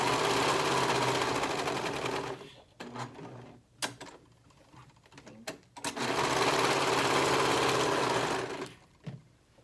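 A sewing machine stitches an Eden shirt in two close, steady runs, the first about two seconds and the second about three, separated by a pause with clicks as the needle and presser foot are lifted and the fabric is turned.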